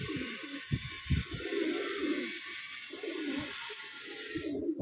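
Pigeon of the Madrasi breed cooing in soft, repeated low throaty phrases close by, with a steady high hiss behind it and no talking.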